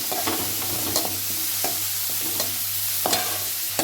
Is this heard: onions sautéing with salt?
yes